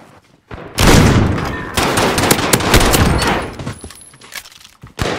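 Gunfire in the Modern Warfare video game is heard as a loud, close burst of rapid shots lasting a few seconds, followed by a few sharper isolated cracks near the end.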